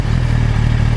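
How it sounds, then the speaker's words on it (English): A new 2015 Kawasaki Ninja ZX-10R sport motorcycle with stock exhaust idling close by, with a deep, steady burbling exhaust note, loud and continuous. "this is stock exhaust as well, guys, and we are on a brand new bike"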